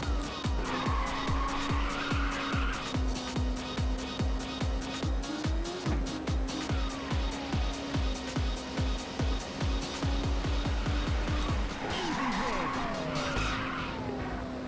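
Race cars overtake in Ridge Racer on the PSP, a steady engine drone under pulsing rhythmic game music, with tire squeals and a brief pass-by swoosh near the end.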